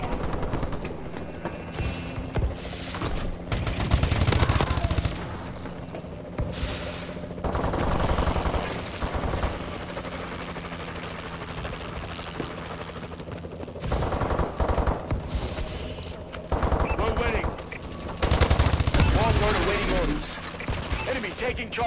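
Rapid automatic gunfire from Call of Duty: Advanced Warfare multiplayer combat, loud sustained bursts with pauses, layered with radio-style callouts and game voice announcements.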